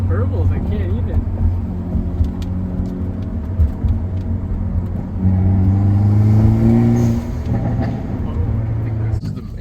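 A 2022 Hyundai Elantra N engine revs up through rising harmonics from inside the cabin, with a loud steady drone and popping exhaust burbles, while people talk over it.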